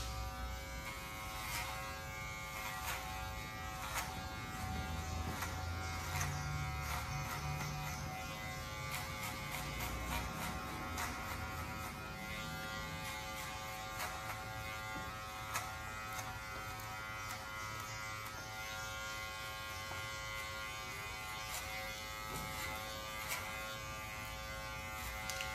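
An electric hair clipper fitted with a number 2 guard buzzes steadily while cutting a fade at the nape of wavy hair, a continuous close, even drone with no talking.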